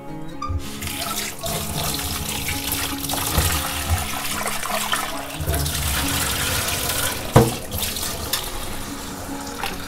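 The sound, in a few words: water poured while washing shark fish pieces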